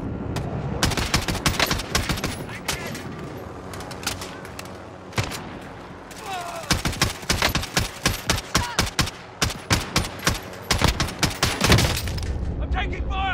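Dense video-game gunfire, rapid bursts and single cracks from machine guns and rifles, runs almost continuously at close range, with a voice speaking over the shooting.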